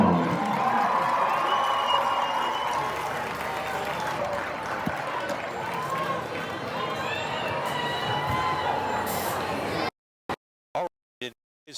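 A crowd in the stands of a high school football game, Broome Centurions vs Emerald Vikings, applauds and cheers the homecoming court at halftime. The clapping is dense and steady for about ten seconds, then cuts off into near silence with a few brief bursts.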